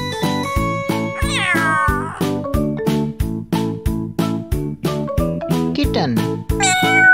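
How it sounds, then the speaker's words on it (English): A cat meows several times, drawn-out rising calls standing out over a loud, bouncy children's music track with a steady beat. "Cat."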